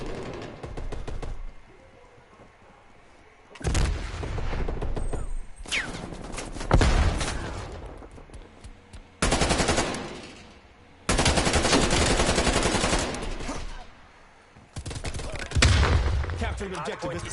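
Video-game gunfire in Call of Duty Black Ops Cold War during a Hardpoint match: loud bursts of automatic fire and blasts in several separate volleys, with quieter gaps between them.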